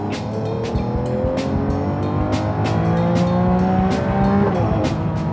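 A Lamborghini Aventador SV's engine and exhaust growl loudly and continuously, with rising and falling gear pulls and sharp crackles punctuating the drone.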